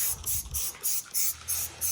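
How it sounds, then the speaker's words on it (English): Lubricant sprayed onto a painted panel of a Toyota FJ Cruiser in quick repeated hissing bursts from a trigger bottle, about six close, evenly spaced sprays, with no talking. "we're gonna spray it on the panel"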